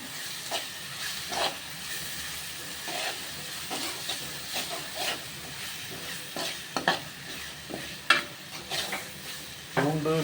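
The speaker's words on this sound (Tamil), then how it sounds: "மிக்சியில் அரைத்ததை நன்றாக வதக்கவும்" A ground paste of garlic, pepper, cumin and onion sautés in a kadai for village-style chicken gravy, with a steady sizzle broken by irregular scraping strokes of the stirring spoon, close and with no talk.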